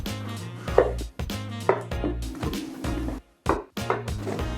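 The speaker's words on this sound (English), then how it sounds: "You want to cut your veg nice and chunky so it doesn't fall off the skewers" A knife chops vegetables into chunky pieces for tandoori monkfish skewers, giving a handful of distinct, well-spaced thuds on a board over steady background music.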